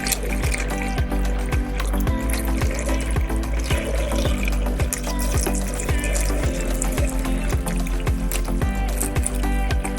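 Milk pours in a steady, continuous stream into a Thermomix bowl nearby, a full liquid gurgle that stays at an even loudness throughout.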